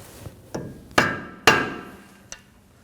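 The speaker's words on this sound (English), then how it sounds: "I'm gonna use a flathead screwdriver, and we're gonna notch it in." Metal hammer blows drive a flathead screwdriver into an axle nut to notch it on a Kia Optima front end, five sharp ringing strikes at an uneven pace, the middle two loudest, close and without talk.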